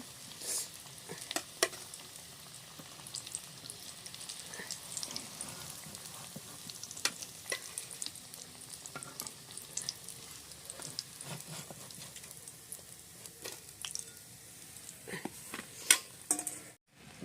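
Sandwiches frying in moderately heated oil, a steady soft sizzle through the whole stretch with scattered crackles and pops. No one speaks.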